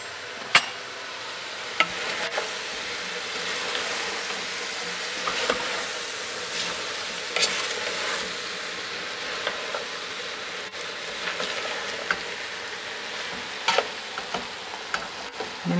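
Red peppers and potatoes sizzling in a soup pot for ham and corn chowder, a steady broad frying hiss broken by sharp clicks and taps of a spoon stirring throughout.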